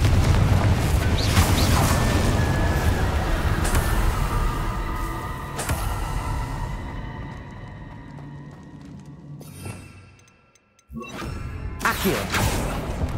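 A Confringo spell explodes during Hogwarts Legacy combat amid a dense, roaring wash of fiery blasts and rumble. The din thins out slowly, drops to a brief near-silence, and then erupts again.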